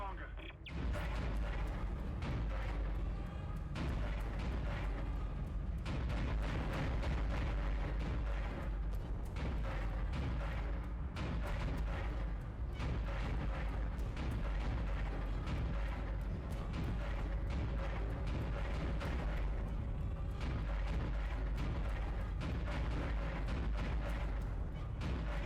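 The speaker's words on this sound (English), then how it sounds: "we come across a turret section which is very less than ideal" A ship's turret in the video game Dead Space blasts away at random asteroids: dense, continuous heavy gunfire and booming impacts. The barrage stays loud and unbroken throughout, with no pauses between bursts.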